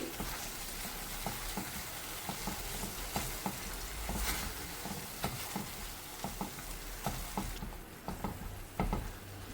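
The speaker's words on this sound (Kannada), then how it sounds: "ಇದರಲ್ಲಿ ಹಾಕಿದ ಮಸಾಲೆ ಸ್ವಲ್ಪ ಹಸಿ ವಾಸನೆ ಹೋಗೋ ತನಕ ಹುರಿರಿ" Masala frying in a pan for a coastal Mangalorean Bhuthai Pulimunchi fish curry: a steady, dense sizzle with irregular crackles and soft stirring taps, constant throughout.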